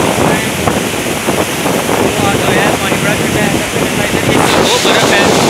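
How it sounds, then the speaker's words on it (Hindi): Mountain river rushing over stones near Lake Saif-ul-Malook, fed by snowmelt, a loud constant roar of churning water mixed with wind buffeting the microphone. "ये पत्थर के ऊपर ये दरिया बहता जा रहा है"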